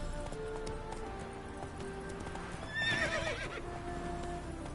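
A horse in The Witcher video game clip-clops along at a steady gallop, then lets out a sharp neigh midway, all at moderate volume.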